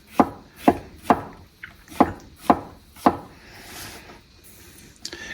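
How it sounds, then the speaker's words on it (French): A knife cuts through a mushroom on a cutting board, making six evenly spaced, crisp chops close by, followed by a softer scraping rub and a final light knock. "on va couper notre champignon en deux"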